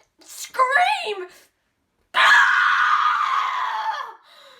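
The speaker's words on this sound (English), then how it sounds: "I'm just so mad I could scream!" A person lets out a loud, angry scream, sustained for about two seconds after a shorter, wavering vocal outburst, with a brief pause between them.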